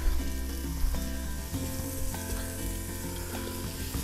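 Beef strips sizzle and fry in a little oil in a wok over full heat, a steady loud crackle with occasional stirring scrapes throughout.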